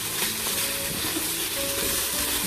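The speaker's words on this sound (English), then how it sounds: "now you can see my masala is getting sauteed really well" Masala of onion and spices sautéing at medium-high heat in an Instant Pot for Punjabi chole, giving a steady, fairly loud broadband sizzle and hiss that runs continuously with no talk.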